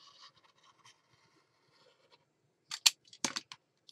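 A blade slices down through journal paper along a ruler, giving a few faint scratchy rustles before two short, sharp cutting strokes near the end, close and quiet.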